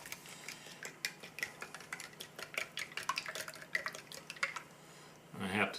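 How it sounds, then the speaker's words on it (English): Plastic MRE spoon stirring a UK ration pack breakfast mixed with cold water, giving quick irregular clicks and taps against the pouch, close and fairly faint, with a louder rustle at the end. "Give it a stir here with the good old plastic MRE spoon."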